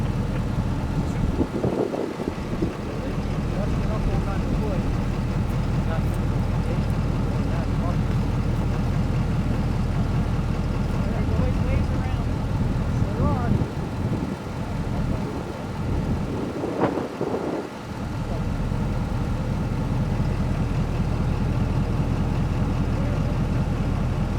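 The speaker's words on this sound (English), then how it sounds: "you guys are kind of just listening to the truck run here" A truck's engine running at a 4x4 rescue and recovery in a mountain gulch, a steady low rumbling drone that continues throughout while people talk over it.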